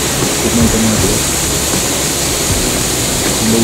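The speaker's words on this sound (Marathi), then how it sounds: "बघू शकता किती सुंदर धबधबा" A small waterfall spills from the outflow of Kalwati lake near Ambajogai, making a dense, steady rushing roar of falling water. It sounds loud and close and continues without a break.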